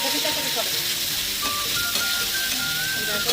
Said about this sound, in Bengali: এদিকে টমেটোটা ভালো করে কষে নেই